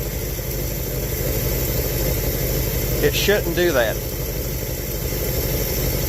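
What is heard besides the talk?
1967 Chevelle engine idling, flooding from boiling gas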